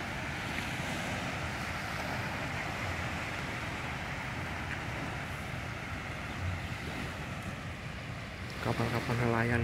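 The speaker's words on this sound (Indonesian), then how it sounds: "Terdengar desiran ombak gelombang laut yang meniup dan mendorong air ke tepi." Sea waves wash steadily onto the shore beside a harbour where fishing boats lie at anchor, a continuous broad surf roar with wind buffeting the microphone, swelling slightly louder near the end.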